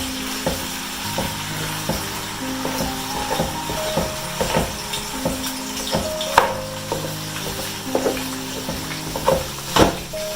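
Meat browns in a pot for a bulk family meal, sizzling steadily up close while a spoon scrapes and knocks against the pot in irregular strokes, with sharper clacks now and then.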